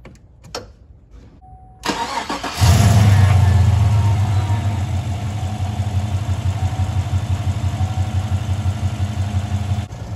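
A GM 5.3 or 6.2 V8 engine cranks briefly and catches, then settles into a loud, steady, throbbing idle heard close by, with no talking.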